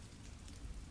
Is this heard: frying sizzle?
no